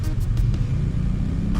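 A 2020 Jaguar I-Pace electric car accelerates on the road, giving a steady low rumbling road and motor drone heard from inside the cabin, with no distinct engine revving.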